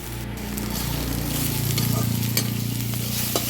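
Fish and eggplant fry in a pan with turmeric, a steady close sizzle that swells as a spoon stirs and scrapes through the pieces, with a few sharper clicks against the pan.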